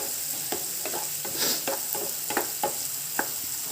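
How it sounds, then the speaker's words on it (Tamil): Onions sauté in a pan for chicken chukka, a steady frying hiss broken by a regular run of spatula scrapes and taps roughly every half second, fairly close and without talk. "வெங்காயத்தை நல்லா வதக்கிட்டு நல்லா பொன்னிறமாக வதக்கிட்டா சுக்காவுக்கு நல்லா இருக்கும்"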